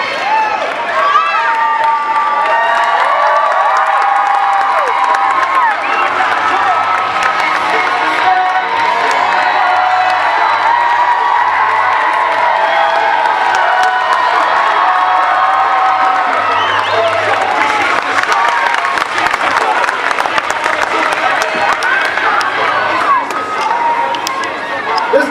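A fairground crowd at a martial arts demo cheers, whoops and shouts continuously and loudly, children's voices mixed in, sustained for the whole stretch.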